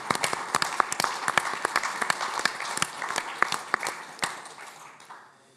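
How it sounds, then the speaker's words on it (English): A seated audience at the Horasis India Meeting in Athens, 2024, gives a round of applause with sharp, distinct claps building into a dense patter that fades away over the last second. "Let's give him a round of applause."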